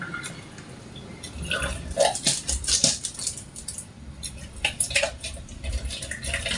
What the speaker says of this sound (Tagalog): bubuhusan lang natin sila ng mainit na tubig